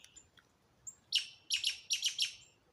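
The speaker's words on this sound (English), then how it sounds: "That's a baby woodpecker." A juvenile woodpecker calls outdoors near adult woodpeckers: a few faint early notes, then clusters of sharp, high chirps in quick bursts against quiet background noise.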